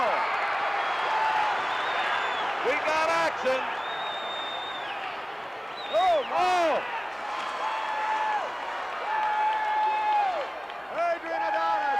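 Wrestling arena crowd at a WWF event cheering and applauding in swelling bursts, loud and roomy, under an excited commentator talking throughout.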